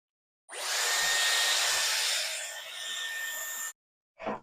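A Dyson hair dryer blows in one loud, steady rush of air for about three seconds, easing slightly partway through, then clicks off before a short burst at the end.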